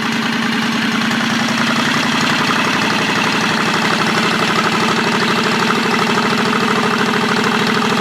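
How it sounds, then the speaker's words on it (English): A John Deere 214 mud mower engine runs at a raised idle, giving a loud, steady, rhythmic chugging that stays close and constant throughout with no talk. "Now I'm going to bump it up to a faster idle."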